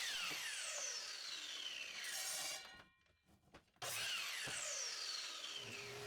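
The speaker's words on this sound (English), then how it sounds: "We'll cut it in half at the line on the miter saw." A miter saw cuts a 2x4 in half: a loud, sustained whining saw roar fills the space, drops out briefly to near-silence, then surges back just as loud and continues to the end.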